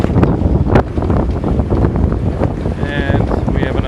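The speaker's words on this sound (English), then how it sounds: "25 gusting to 30 knots of wind. Water slapping everywhere." Strong Meltemi wind gusting to around 30 knots roars steadily across an anchored sailboat, with water slapping and sloshing against the hull throughout and a sharp gust burst near the start.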